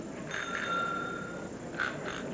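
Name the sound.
quiz show answer bells being tested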